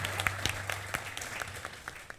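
A studio audience on a comedy talk show gives scattered, moderate clapping with distinct individual claps over a low background hum, brief and fairly light.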